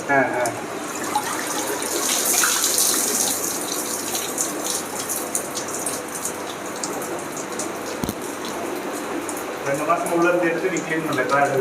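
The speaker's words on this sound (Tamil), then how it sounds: "இது இப்படி கீழே இருந்து தண்ணியை இழுத்து மேல இந்த ஹோல்ஸ் வழியா போயிட்டு தண்ணி எல்லாமே ஸ்பாஞ்ச தாண்டி வருது" A homemade aquarium filter pumps water up through holes and a sponge, giving a steady close trickling and splashing flow that runs throughout while someone talks over it.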